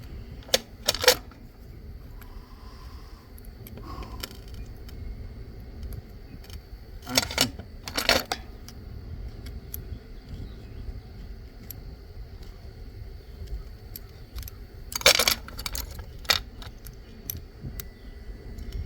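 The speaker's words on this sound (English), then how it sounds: "So I'll get the screw set in." Small metallic clicks and scrapes from a screwdriver setting a screw into the ignition points of an antique Ford tractor, coming in scattered short bursts over a quiet room background, close and fairly soft.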